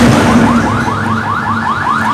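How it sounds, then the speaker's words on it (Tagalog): A loud 12V compressor-fed air horn on an owner-type jeep repeats rapid rising chirps in a steady pattern, blaring close and continuous. "Yan ang setup ng ating air horn."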